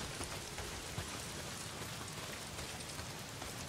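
Rain pours down in the Days Gone video game, a continuous dense hiss of drops hitting surfaces, fairly soft and even throughout with no voices.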